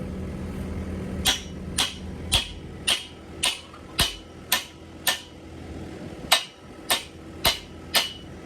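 Hammer blows while building a garden fence out of an old cattle corral, a dozen sharp, evenly paced strikes ringing out close by against a low background rumble, with no talking.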